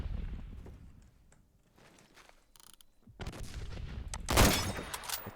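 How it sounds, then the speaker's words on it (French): Gunfire in the video game Phantom Forces: muffled distant shots and rumbling battle noise, then a louder close burst of firing near the end. "D'où venaient les tirs, ça je ne sais pas vous le dire."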